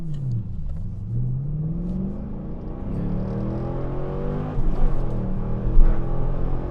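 A 2024 Subaru BRZ tS launches on a 0-60 run on a cold day with traction control off, its engine revving up through several gear changes in rising sweeps, loud and close from inside the cabin with no talking.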